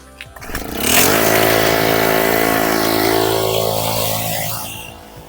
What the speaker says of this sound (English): I'm going to get the power flow onto it to power flow the last bit